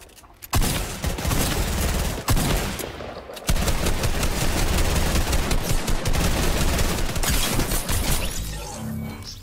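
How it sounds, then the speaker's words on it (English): Loud, rapid automatic P90 fire in a Fortnite solo match comes in long sustained bursts with brief pauses between, close and dominant with no talking over it. "Is that a P90 I hear?"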